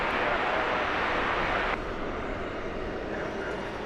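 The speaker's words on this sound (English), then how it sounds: "But we've got one in motion right now. It's UPS flight 2751." UPS flight 2751 rolls at DFW Airport as a steady, broad jet engine roar, loud at first and then dropping abruptly to a lower, more distant rush for the rest.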